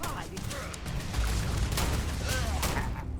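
Revolver fire in the game Starfield mixes with other combat gunfire, loud and sustained, with sharp shots and low booms cutting through a dense battle while someone speaks.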